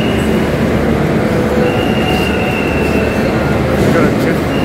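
Busy platform 11 at Chennai Central railway station, with a steady loud rumble of trains and rail cars, metallic wheel squeal and a thin high whine running throughout, and crowd voices mixed into the din.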